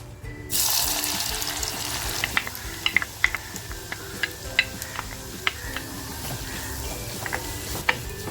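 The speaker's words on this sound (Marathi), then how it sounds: "आता आपलं तेल छान तापलंय कांदा जो कापून घेतलाय तो कांदा टाकते" Chopped onion is dropped into hot oil in a handi for prawn masala, bursting into a loud sizzle that settles to steady frying crackle, dotted with sharp spatters and pops throughout.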